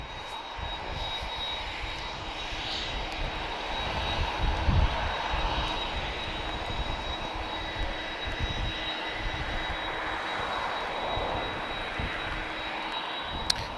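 A Ryanair jet airliner rumbles at Lisbon Airport. The engine roar is steady and moderately distant, with a constant thin whine above it, and no one speaks.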